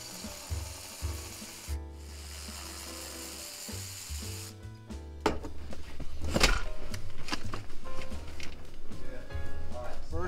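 A ratchet works loose the 12 mm seat mounting bolts inside a Toyota Camry Hybrid, with low ratcheting clicks at first, then a busier stretch of metallic clicking and rubbing that gets louder partway through.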